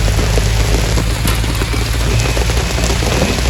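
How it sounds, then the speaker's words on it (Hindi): Heavy rain of large drops pours steadily outdoors in a dense, loud hiss with no pauses, a constant roar of drops hitting surfaces close by. "अब और भी तेज है बारिश"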